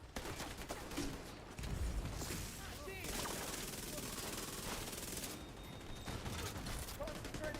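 Sustained automatic gunfire from The Division 2 during a fight with incoming tanks: dense, rattling bursts that run almost without pause, loud and close, with a brief lull between heavier volleys.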